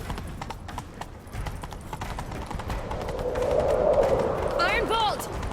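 Rapid clip-clop of galloping horse hooves in The Witcher 3: Wild Hunt, steady and fairly loud, with a rising whoosh and whistling tones near the end; no voices over it.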